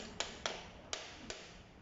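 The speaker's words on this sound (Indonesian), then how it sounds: "kalau agak sedikit keras kita bisa ketok dari bawah menggunakan palu karet atau palu" Four light taps from a rubber or plastic mallet strike an air impact wrench part from below, sharp and close, unevenly spaced over a faint background hiss.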